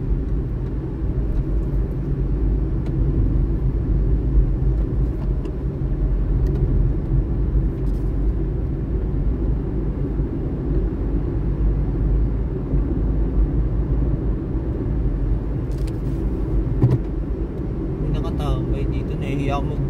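Interior of a Honda Brio car driving along, a steady low engine and road rumble throughout at even loudness, with faint clicks and light rattles near the end.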